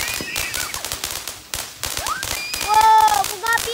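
Low fireworks crackle and bang in rapid bursts during an Aidil Fitri night, sharp pops mixed with whistling rising streaks, close and loud while people talk and shout over them.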